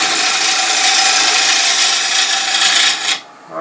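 Wood lathe roughing cuts made with a gouge on a turned jewelry box blank, a loud, continuous, hissing scrape that holds steady for about three seconds and then cuts off.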